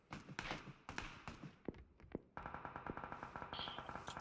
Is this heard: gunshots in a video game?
yes